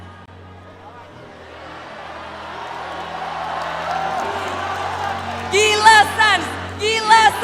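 Esports grand finals crowd at a mobile gaming event swelling from steady hubbub into loud cheering and whoops, with bursts of shouting near the end while an announcer's voice speaks over it.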